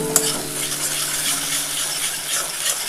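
Egg masala curry base with tomato being stirred and fried in a pan, a steady sizzle running throughout with a sharp clink of the utensil near the start and faint scraping strokes.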